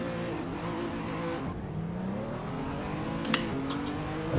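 Race cars in a sim racing game launch from a standing start in a rallycross-style race, engines droning and rising steadily in pitch, with a brief sharp burst near the end.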